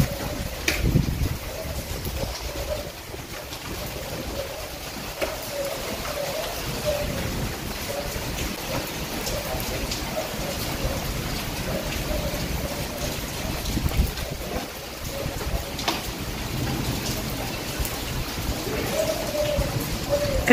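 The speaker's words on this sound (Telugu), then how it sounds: "ఫుల్ గాలి, వర్షం," Heavy rain driven by wind pours down outdoors in a dense, continuous hiss and roar that stays steady and close, with a voice faintly present at times.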